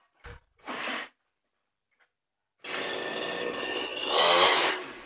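A CG411 grass cutter with metal and nylon blades sits for two short sputters of the starter, then a pause, before the small two-stroke engine catches and runs steadily, revving louder near the end.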